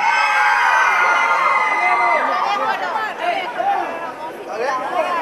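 Women in a live concert audience shout, whoop and cheer loudly together, a dense crowd roar that swells and dips, with high excited voices overlapping throughout.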